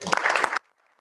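A burst of applause from a crowd at a school board meeting, dense and loud for about half a second, then cutting off abruptly into near silence.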